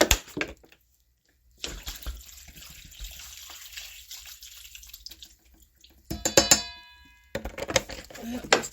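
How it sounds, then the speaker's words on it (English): Water runs steadily into a cooking pot for several seconds, a close, hissing pour that stops briefly and resumes, with clinks of the pot near the end. "All I'm doing is adding some water."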